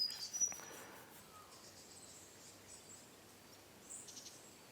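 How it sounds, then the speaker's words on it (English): Birds and insects call outdoors in a quiet natural setting, faint high chirps and trills over a soft hiss, with a brief rustle at the start. "I don't know if you can hear the amount of bird life there is here, but it's insane."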